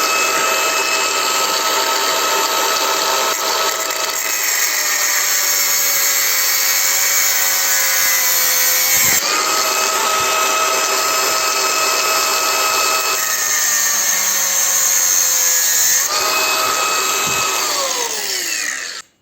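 A power tool slices into a gas cooktop adjustment valve in a workshop, a loud continuous high whine whose pitch sags and recovers as the cut bites, running unbroken for most of the time before stopping abruptly.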